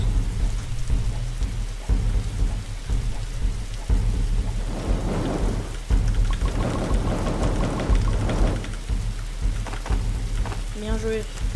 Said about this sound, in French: Commence à pleuvoir, ça va.